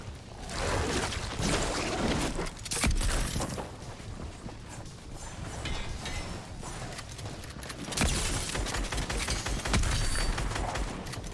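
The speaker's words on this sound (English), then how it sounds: "All those AR shots were just hitting nothing." Rapid assault rifle fire in a video game, dense overlapping bursts of sharp shots and cracks filling the scene loudly and continuously, with heavier clusters near the start and again later.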